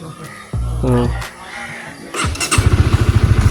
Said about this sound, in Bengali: তোমার বাইক স্টার্ট করতেছি